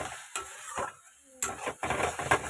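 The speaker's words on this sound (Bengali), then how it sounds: "ভালো করে এবার এটাকে কষাবো অনেকটা টাইম ধরে" Vegetables sautéed and stirred in a pan, with repeated scraping strokes of a spoon against the metal over a soft sizzle, in uneven bursts with brief pauses between them.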